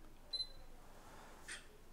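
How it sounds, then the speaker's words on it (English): A Sony camera's shutter fires to begin interval timelapse shooting, giving a quick pair of faint mechanical clicks near the start and a softer click a moment later over a quiet room. "I'm just gonna hit the shutter button and that's gonna start the process"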